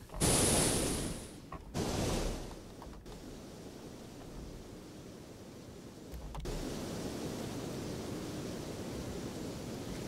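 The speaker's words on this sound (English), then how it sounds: "we're going with like a big open quality kind of wind sound" A designed wind sound effect for a game, a broad open airy rush that swells in two louder bursts early on, then settles into a soft, steady hiss that lifts slightly later, with no voices.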